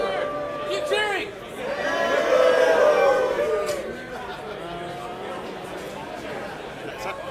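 Crowd at a Rebels game cheering and shouting in a broad swell that builds to a peak midway, then settles into steadier mixed voices and chatter.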